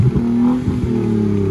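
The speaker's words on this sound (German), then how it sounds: "irgendwie läuft der Motor nicht richtig. Gib mal Gas!" A BMW E36 engine that is running roughly is revved up close, giving a loud, sustained growl that rises and holds with slight unevenness, with no talk over it.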